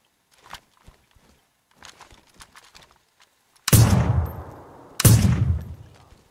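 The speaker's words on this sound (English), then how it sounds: "We shoot up these gas tanks." Two loud, close gunshots at gas tanks in the video game DayZ, each a sharp blast with a rumbling decay, following scattered quieter clicks and faint game sounds.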